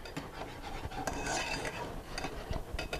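A spoon scrapes and clinks steadily around a pan of thickening Alfredo sauce on the stove, close and continuous, with a few sharper metallic taps and no talking.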